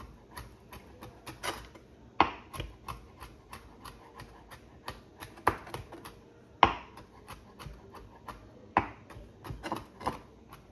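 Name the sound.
chopping fritter ingredients small with a knife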